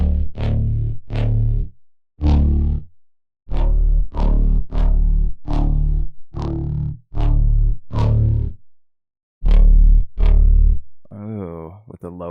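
An electric guitar runs through distortion followed by a chorus effect, playing about a dozen punchy, evenly spaced notes and chords that ring loud and thick, ending in a brief wobbling swirl.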